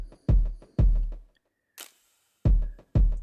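Layered snare and clap samples hit together as a single punchy drum sound, struck four times in an uneven pattern, with a short bright hiss burst in the gap between the second and third hits.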